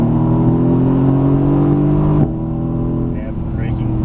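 A Mercedes AMG GT S on a race track holds a loud, sustained engine roar under throttle, then the tone drops abruptly as the revs fall, with a driver talking over the car.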